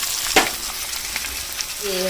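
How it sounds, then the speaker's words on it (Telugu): Red weaver ant eggs dropped into hot oil tempering for a tribal curry, giving a sharp splash followed by a steady close sizzle and frying crackle, with a brief tonal sound near the end. "ఈ గుడ్లను ఆ తాలింపులో వేయాలి"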